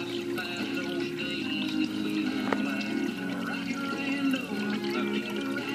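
Water running continuously through a new water fountain, a close, steady trickling and pouring stream with faint splashes and drips layered over a soft hum.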